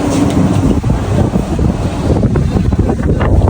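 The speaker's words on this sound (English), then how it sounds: "Super windy, guys. Super windy." Strong wind roars and buffets the microphone continuously at the Lotus Tower in Sri Lanka, a loud rumbling gust with no speech.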